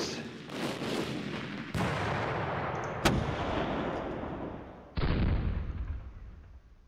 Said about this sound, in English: let's use our artillery now